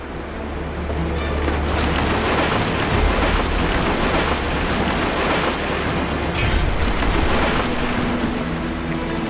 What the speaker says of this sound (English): the tempest unleashed its fury right in the middle of town